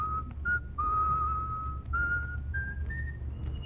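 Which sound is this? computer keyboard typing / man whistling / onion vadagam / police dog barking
man whistling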